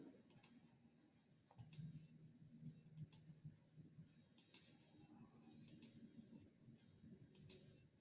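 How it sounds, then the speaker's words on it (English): Sharp, close clicks of a computer mouse come in small clusters spaced about a second apart over a quiet room background, each click crisp and brief. "Try to click faster this time."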